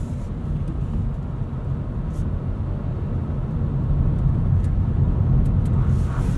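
Inside a 2024 Nissan Leaf SV Plus electric car on the move, a steady low road and tire rumble fills the cabin, with little motor sound and a slight swell in level late on.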